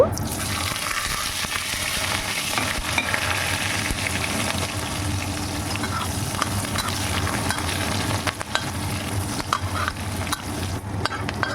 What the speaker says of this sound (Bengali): রসুন ও পেঁয়াজ ফোড়নের সঙ্গে ভালোভাবে নেড়ে চেড়ে মিনিট খানেক ভেজে নিয়ে